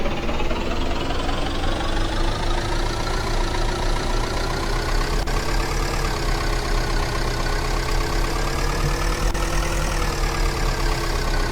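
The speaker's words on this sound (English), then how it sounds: "now the car also has audio source in it and simple car engine sound" A simple car engine sound from a Unity game project, looping as a steady, loud idle with a low rumbling hum and faint rhythmic knocking that runs unchanged from start to finish, with no talking.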